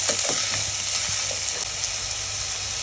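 Sliced onions and curry leaves sizzle steadily in a hot pan while a spoon stirs them, giving a few light scraping clicks over constant frying hiss.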